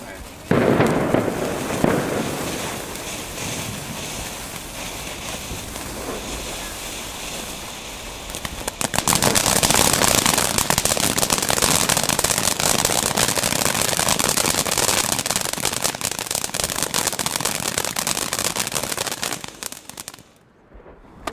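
Crackling fireworks pop continuously, a dense sizzling spray of tiny bursts that intensifies midway, then cuts off abruptly near the end.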